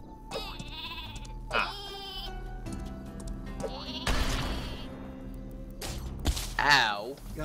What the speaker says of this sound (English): Who threw that sheep?